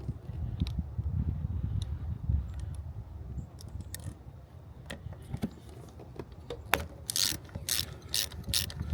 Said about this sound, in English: My little baby ratchet.